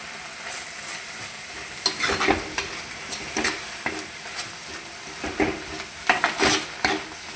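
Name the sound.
curry leaves frying in pan for chicken curry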